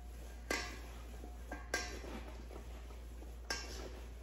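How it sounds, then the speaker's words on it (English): Salt being stirred into kimchi in a bowl, with a few sharp clinks of a utensil against the bowl at irregular intervals and quiet scraping and mixing between them, close and fairly soft. "I'm gonna kind of mix it up just a little bit before I add the other tablespoon"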